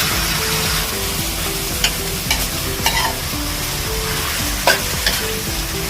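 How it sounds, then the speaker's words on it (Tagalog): Kimchi for kimchi jjigae sizzling in a hot pot while being stirred, a loud steady fry with a few sharp scrapes of the utensil against the pot, no voices. "So mga boss, lagay natin yung kimchi."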